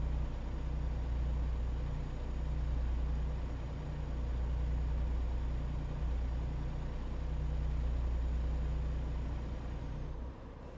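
A truck engine in the TruckersMP driving game drones steadily at moderate volume, a smooth low hum swelling and easing slightly before dropping off near the end, with no speech over it.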